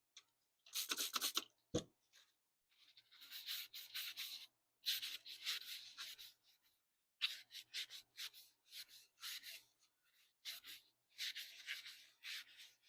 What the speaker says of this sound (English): Get that sand or the dust off of it.